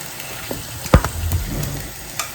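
Onion frying in oil until reddish-brown, a steady close sizzle broken by one sharp clink of a utensil against the pan.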